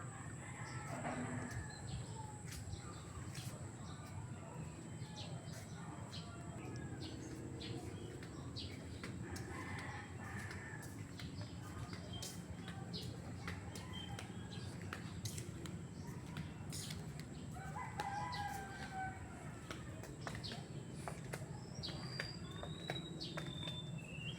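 Birds calling and crickets chirring around a Korean-style temple in Bocaue, Bulacan, a steady quiet outdoor ambience with scattered faint chirps and short whistled calls over a low constant background hum.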